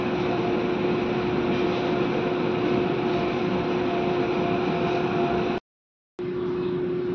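A commercial laundry washing machine runs normally, giving a steady, loud, even mechanical hum and whir with a faint tonal drone, broken by a brief cut to silence near the end.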